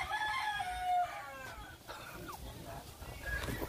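A rooster crows with a drawn-out, wavering call near the start, followed by softer clucking and rustling farmyard noise in the background.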